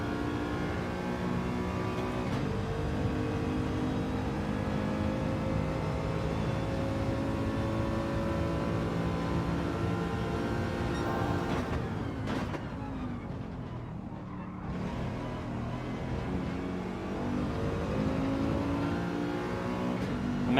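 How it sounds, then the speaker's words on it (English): Ford Mustang race car accelerating in Gran Turismo 7: a steady engine drone with rising and falling tones, a brief drop as it shifts or brakes, then it climbs again, with no talk. "he gains on the acceleration because that Mustang is a monster on acceleration"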